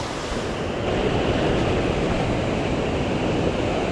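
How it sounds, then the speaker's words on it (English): Rapids on a river beside a side trail in New York rush as a steady, broadband roar of churning water that holds constant and fairly loud throughout, with no voices. "good set of rapids there"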